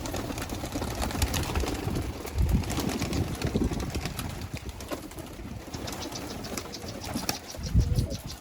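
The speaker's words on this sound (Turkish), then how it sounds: "Kuşlar ürküyor ya. Kuşlar bile yabancılıyor." Domestic tumbler pigeons cooing inside a coop, low soft coos rising in short bursts at intervals, heard close over a faint mechanical hum and rustling.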